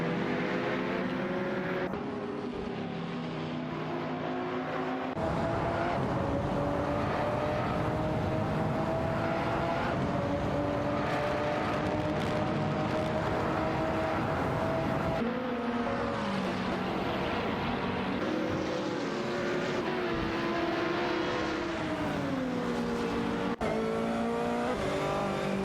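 Several race car engines in an AI-driven racing game whine and shift pitch as they overtake one another, a dense layered roar with rising and falling tones, with no talk over it.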